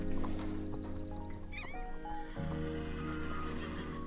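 Horses in the Star Stable video game neigh loudly in a long whinny with a bright trilling start, followed by softer snorts and a second call over a steady ambient hum.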